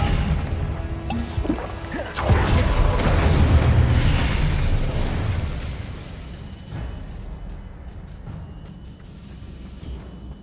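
Incendio fire spell cast in Hogwarts Legacy: a heavy whooshing boom swells over a few seconds, then a rumbling burn slowly fades into a quieter tail.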